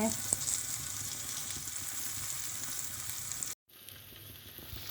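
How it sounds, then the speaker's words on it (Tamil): Soft tofu pan-frying, a dense continuous sizzle heard up close with a brief dropout near the end, steady and fairly loud throughout. "எல்லா பக்கமும் வேக வச்சுக்கோங்க"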